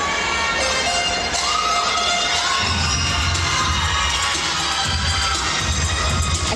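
A crowd cheers wildly after a performance routine, loud sustained shouting and screaming with high children's voices mixed in, dense and continuous throughout.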